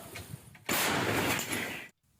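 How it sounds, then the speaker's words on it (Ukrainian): A single loud, booming blast of artillery gun fire in combat on the front line in Ukraine fills the air for about a second, then cuts off abruptly. "Гармата! Постріл!"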